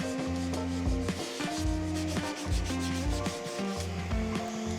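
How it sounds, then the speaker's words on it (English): Hand-sanding the wooden mitered edge of a DIY dresser, heard as close, steady back-and-forth rubbing strokes in a regular rhythm with no talking. "I'm gonna sand it down, and it's gonna look like it was professionally cut."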